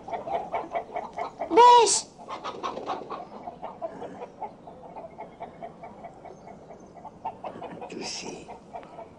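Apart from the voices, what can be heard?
chickens clucking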